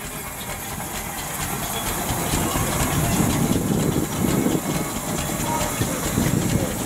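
A small Foster steam traction engine, a type used for agricultural work such as threshing and wood sawing, runs in the arena parade at a country steam show, giving a steady hiss and mechanical rumble with faint rhythmic chuffing.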